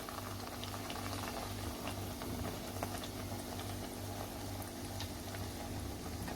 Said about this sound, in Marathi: चांगलं गरम तेलात तळून घ्या पुऱ्या